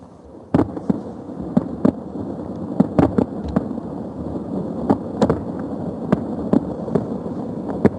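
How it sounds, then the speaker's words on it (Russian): Festive fireworks burst over Grozny as sharp, irregular bangs, some close and loud, others more distant, over a continuous rumbling crackle, with no voices heard. "Ровно в 6:40 небо над Грозным было озарено праздничным фейерверком"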